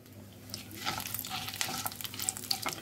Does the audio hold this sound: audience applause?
no